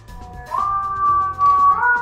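A voice imitates a wailing siren with a sustained, slightly wavering tone that rises in pitch near the end, fairly loud and close.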